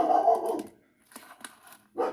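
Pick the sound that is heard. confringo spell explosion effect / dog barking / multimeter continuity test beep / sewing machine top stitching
dog barking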